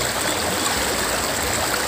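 A river flows steadily with a broad, constant rush of water at a fishing spot, even in level and close.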